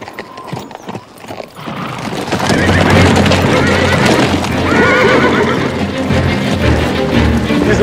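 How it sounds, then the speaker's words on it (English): Pack horses outdoors neigh and whinny while hooves clip-clop, starting with scattered steps and then building into a loud, busy stretch of movement that lasts to the end. "These are the pack horses Josh had with him, aren't they?"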